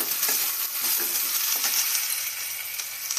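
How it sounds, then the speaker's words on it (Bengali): Chopped capsicum added to frying onion and garlic paste for chicken kosha, producing a continuous close sizzle with light stirring taps and metallic clinks against the pan. "পেঁয়াজ রসুনটা ভাজার পর আমি ক্যাপসিকাম কুচি দিয়ে দিচ্ছি।"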